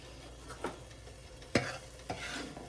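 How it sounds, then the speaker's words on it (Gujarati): Butter slowly simmering into homemade ghee in a pan gives a faint steady sizzle, broken by a few soft scrapes of stirring, heard up close without talk. "ઘી બની રહ્યું છે ધીરે ધીરે જુઓ તમે"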